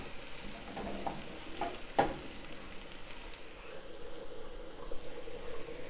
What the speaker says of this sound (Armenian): Անընդհատ խառնում ենք, որպեսզի սոխը չվառվի